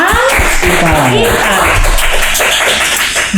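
Studio audience clapping for a podcast guest, Kang Ifai, a brief, fairly loud burst of applause with a voice talking over it throughout.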